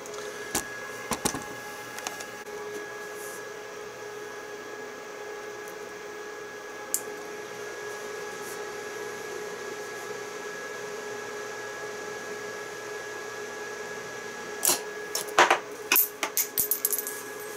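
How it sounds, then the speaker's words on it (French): A homemade cartridge case annealing machine runs with a steady electrical hum and faint background whir, then a cluster of sharp metallic clicks and clatters near the end as the last brass case is finished and dropped. "Le processus d'annealing va s'arrêter quand il va avoir terminé sa douille en cours."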